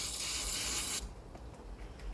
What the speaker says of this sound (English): Spray the rag down real good.